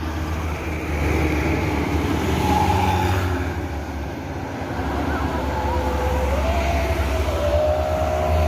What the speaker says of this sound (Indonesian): Bus pariwisata.